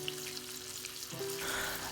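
Onions frying in a pan until crispy, with a continuous crackling sizzle that grows denser toward the end, heard alone at low volume.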